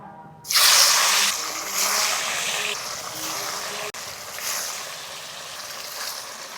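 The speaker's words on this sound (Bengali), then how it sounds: "কড়াইতে তেল গরম হয়ে গেছে কাতলা মাছ ছেড়ে দিচ্ছি" Pieces of katla fish drop into hot oil in a wok, setting off a sudden loud burst of spattering sizzle that settles into a steady, strong hiss and crackle.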